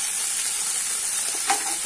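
Onion and drumstick leaves sauté in a pan, a close, steady frying hiss with a brief scrape of stirring near the end.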